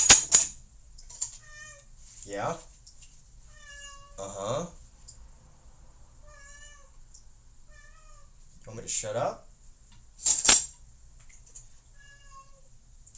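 Pet cat meowing repeatedly at close range during dish-washing, several drawn-out, insistent meows spaced through the stretch, with someone talking back between them.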